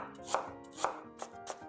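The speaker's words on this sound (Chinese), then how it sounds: "给它切薄片" Knife chopping through peeled ginger on a cutting board, cutting thin slices, with crisp, close strokes repeating every half second or so, alone with no voices.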